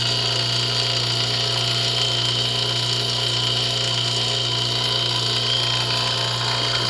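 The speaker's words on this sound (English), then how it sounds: "So I have the vacuum pump running right now because it's leaking just a little bit." A vacuum pump runs steadily on a homemade fusor with a slightly leaking chamber, giving a continuous loud hum with a strong low drone and broad hiss, unchanging throughout.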